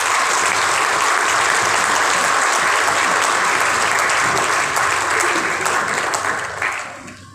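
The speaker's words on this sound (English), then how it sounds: "A huge round of applause." A large audience at an academic symposium inauguration gives a sustained round of applause, loud dense clapping that holds steady before fading out at the end.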